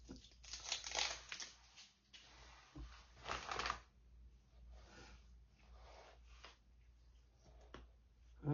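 Protective plastic film peels and crinkles off a product in a few uneven bursts, with softer rustling between them, close and fairly quiet.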